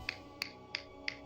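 Four crisp finger snaps at an even, quick rhythm, close and clear over a quiet low background hum.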